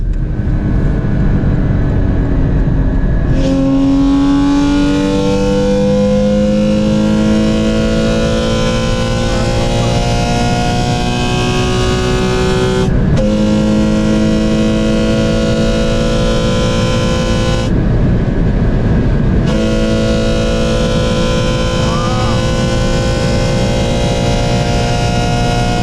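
Porsche 981 GT4 engine pulling hard in second gear, a loud, close, continuous roar whose pitch climbs steadily, breaks briefly at shifts and climbs again through several repeated pulls.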